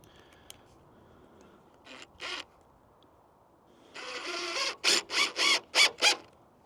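A wrench ratchets a screw into a wooden board while sheeting an off-grid house, giving a few quiet clicks and then a run of six loud, close, evenly spaced ratcheting bursts.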